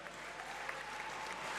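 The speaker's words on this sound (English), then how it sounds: "That deserves a round of applause." Applause for a swimmer at the Berlin Swimming World Cup 2023 finals: a dense, steady crowd clapping in a large indoor pool venue, heard faint and distant.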